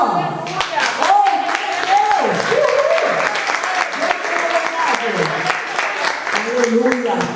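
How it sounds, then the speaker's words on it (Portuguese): A women's church congregation claps steadily together in a close, lively burst of applause while a voice sings and calls out praise over it. "Eu vou aplaudir o Senhor"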